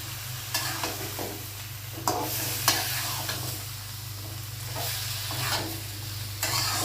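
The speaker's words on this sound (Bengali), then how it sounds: "এখন আমি মাংস আর আলু একসাথে দিয়ে দিব দিয়ে ভালো করে একটু নাড়াচাড়া করে দেই" Meat and potatoes fry with a ground spice masala in a pan, a steady close sizzle under repeated scraping stirs, with a few sharper spoon knocks against the pan and a constant low hum underneath.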